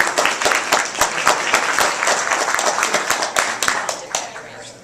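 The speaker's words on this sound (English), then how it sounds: "a round of applause for our newly married couple" Guests at a family Passover Seder clap for the newly married couple, a dense burst of hand claps with sharp individual slaps running steadily throughout, close and lively, fading slightly toward the end.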